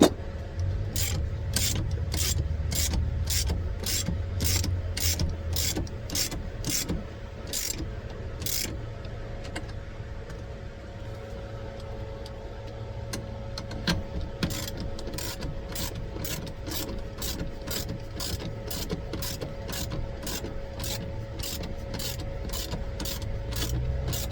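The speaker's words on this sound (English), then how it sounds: "I use a 1/2 inch like deep socket chrome." A hand ratchet fitted with a half-inch deep chrome socket tightens bolts on a 12V roof air conditioner on a van, clicking in long, rapid, evenly paced bursts of close ratcheting with a brief pause near the middle.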